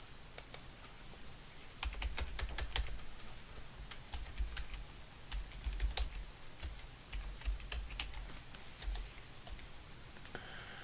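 Keystrokes on a computer keyboard in an office setting, a close, irregular run of light clicks and taps, sometimes clustered in quick bursts, with no speech.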